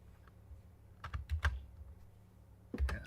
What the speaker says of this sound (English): Ignore my typing.